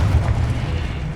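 A Confringo fire spell blasts in Hogwarts Legacy as a single loud, booming burst with a deep low-end rumble that stays dense through the short moment.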